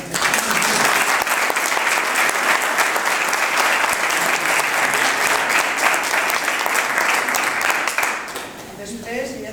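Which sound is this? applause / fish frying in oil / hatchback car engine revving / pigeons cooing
applause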